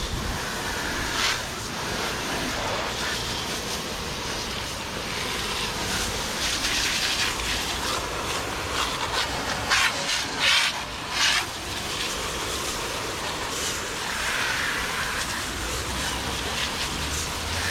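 A 2012 Buick Lacrosse is sprayed down with rinse water at a car wash, a steady hissing rush close to the microphone with brief surges and pauses as the spray moves across the body.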